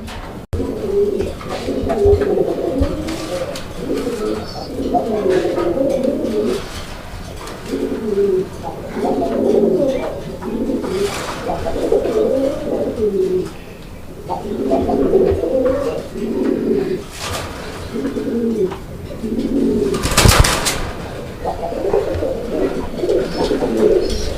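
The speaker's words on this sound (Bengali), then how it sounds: "এটা লাহরি কবুতর একটা পেয়ার দেখতেই পাচ্ছেন আপনারা" A pair of silver Lahori pigeons coos in repeated rolling phrases, near and fairly loud, with occasional rustles and sharp knocks in the background.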